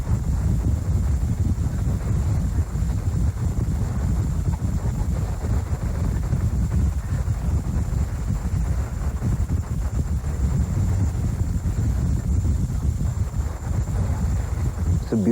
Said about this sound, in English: Now we're sailing